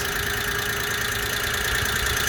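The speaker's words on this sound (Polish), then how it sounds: "nie wiem, czy to takie latanie tego silnika to jest ok. Pracuje ładnie." A small three-cylinder Daewoo Matiz engine idles steadily up close, a constant mid-pitched hum with a faint fluttering unevenness and no voices.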